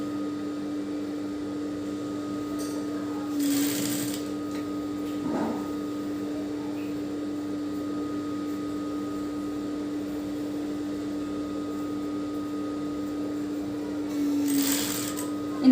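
Sewing machine stitching a semi Patiala pant, a steady continuous mechanical hum running throughout at moderate level, with a few brief rustling bursts of fabric handling and no talking.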